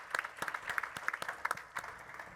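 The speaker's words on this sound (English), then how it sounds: "So again, a huge applause for First Lady." Audience applause for a First Lady at a National Governors Association summer meeting, a brief faint patter of scattered claps from a modest crowd, fairly distant and thin, with no talk over it.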